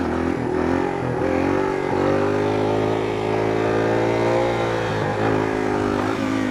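A 2006 Yamaha XT225 motorcycle engine revs up and holds a loud, buzzing mid-pitched drone with small throttle wobbles as the rider pulls a wheelie, the engine close and unbroken throughout.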